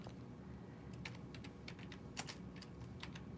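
Someone types a search on a computer keyboard: quiet, irregular clusters of key clicks over a soft background hum, with no speech.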